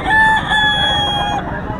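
A stag fighting cock crows close and loud at a gamefowl market in Bocaue, a single clear drawn-out call over faint background noise.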